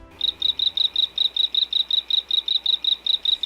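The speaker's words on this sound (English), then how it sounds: "You may think that frogs croak, but he sort of chirps." A small frog chirps in a fast, even series of about eighteen high, clear pulses, loud and close, with no other sounds around it.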